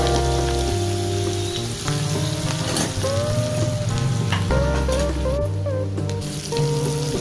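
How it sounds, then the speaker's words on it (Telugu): Mustard seeds, cumin, turmeric, curry leaves, green chillies and ginger hit two spoons of hot oil, giving a loud, steady crackling sizzle with brief spatters and a sustained tonal hum underneath. "ఆయిల్ రెండు స్పూన్లు వేసుకోవాలి దాంట్లో ఆవాలు జీలకర్ర పసుపు వేసుకొని కరేపాకు వేసుకొని పచ్చిమిరపకాయ అల్లం"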